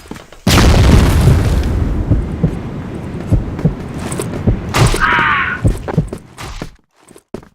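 A video game flash bomb detonates with a sudden loud boom, followed by rumbling debris, scattered thuds and crackles that trail off into near silence.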